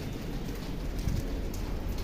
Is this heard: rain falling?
yes